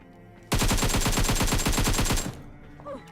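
A SCAR-L rifle fires in PUBG Mobile: one loud, sustained automatic burst of rapid, evenly spaced shots lasting under two seconds, then cutting off to quieter game ambience.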